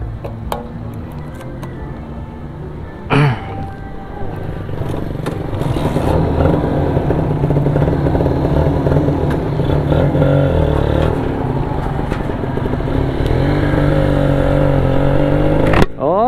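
Kawasaki Ninja RR motorcycle riding, a steady close engine drone with a sharp clatter early on, building slightly in loudness as the bike rides through a village.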